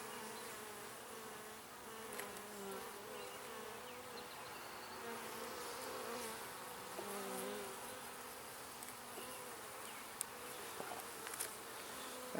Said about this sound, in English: Love the bees, but I don't particularly want to be stung by them.